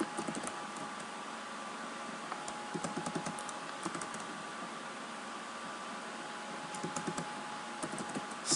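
Computer keyboard typing code, light irregular key clicks in short bursts over a steady fan-like hiss, close and fairly quiet.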